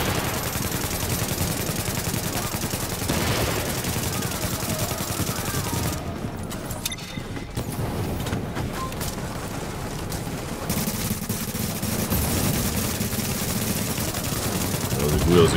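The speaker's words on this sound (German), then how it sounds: "Los, schieß mal hier." Rapid automatic gunfire rattles in sustained bursts during a firefight at the Hudson refugee camp in The Division, with a brief lull midway before the shooting resumes, and voices talk over it.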